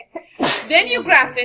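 A single sharp sneeze bursts out during a classroom chemistry lesson on titration, loud and close, with the teacher talking just before and right after it.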